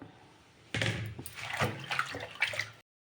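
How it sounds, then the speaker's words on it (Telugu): Fresh spinach leaves are swished and rinsed in a basin of water in a home kitchen, giving close, continuous splashing and sloshing that starts abruptly and runs for about two seconds before cutting off. "పాలకూరను బాగా వాటర్లో వేసుకొని నీట్గా కడుక్కోవాలి"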